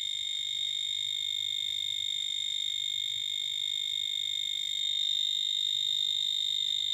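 Continuous steady electronic tone from an electrical cable tester checking an unbroken household mains cable, sounding alone and unbroken throughout with a faint low hum beneath.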